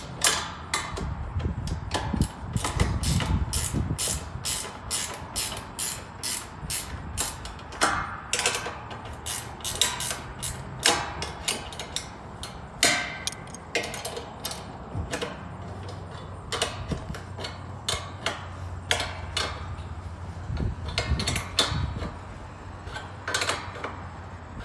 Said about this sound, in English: you're just going to tighten up all of your nuts that are going to change your azimuth